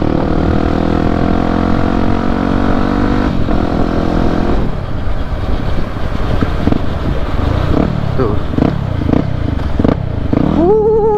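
A Yamaha WR250 supermoto motorcycle runs loud and close, a steady engine drone giving way to choppy throttle blips and rising revs as it rides off, with no talking over it.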